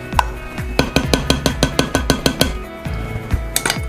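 Coleslaw being stirred hard in a bowl, a quick run of bright clinking knocks from a utensil striking the bowl's sides in a fast, even rhythm, close and loud.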